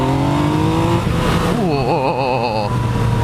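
A 2018 Yamaha MT-09 motorcycle engine revs hard and climbs through the gears in a loud, close burst, with rising and warbling pitch over steady wind and road noise.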